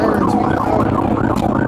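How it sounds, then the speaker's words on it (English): A police car siren wails continuously during a high-speed pursuit of a Ferrari, loud and close, its pitch sweeping up and down over steady road noise. "Sirens."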